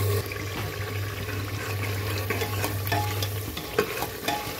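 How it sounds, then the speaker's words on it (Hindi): Jackfruit roasts in a pan, with a steady sizzle and frequent scraping and stirring strokes of a spoon against the metal. The sound is close and continuous, with no voices. "इसको हम जैसे ही भूनने लगा है तो अभी हम इसे और अच्छी तरह से भूनेंगे"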